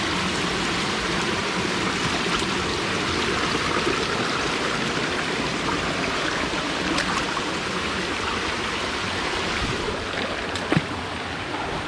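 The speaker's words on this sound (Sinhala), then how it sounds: "නොහිඳුල් දිය පාරක්." A shallow stream of water flows steadily and loudly nearby with a continuous rushing and splashing wash, with a few faint knocks and clicks near the end.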